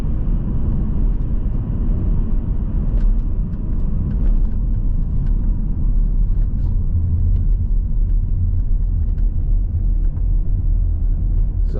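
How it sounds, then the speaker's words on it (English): A 2015 Volvo V70 2.0 D4 estate with Geartronic automatic gearbox cruises along a road, giving a steady, loud low rumble of engine and tyre noise that runs unbroken throughout, with faint occasional ticks above it. "So anyway, it's largely uneventful driving a Volvo,"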